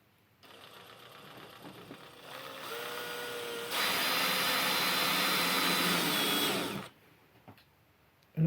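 A power drill drives screws into a Defiant electronic deadbolt latch during a door install, whirring in rising bursts that grow louder for a few seconds, then stop abruptly, with no talking.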